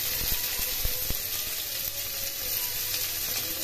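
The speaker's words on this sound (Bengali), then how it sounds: "জিরে ভেজে নিয়ে এর মধ্যে পেঁয়াজ কুচি দিয়ে দিলাম।" Chopped onion frying in oil with cumin seeds, a steady close sizzle with a few soft taps and stirring knocks near the start.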